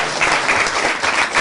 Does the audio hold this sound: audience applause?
yes